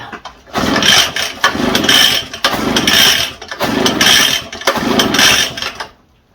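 An ECHO TB580T backpack blower engine being repaired runs close and loud, rising and falling in about five repeated throttle surges, each dropping back briefly before revving again.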